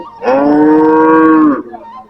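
A single long, loud cow moo rings out close by at a busy village cattle market, a steady bellow of about a second and a quarter with a rising onset and a fading tail.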